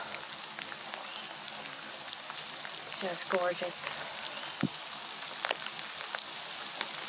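Heavy rain falls on a forest campsite, a steady, soft hiss of dense drops with a few louder taps, while a person speaks briefly.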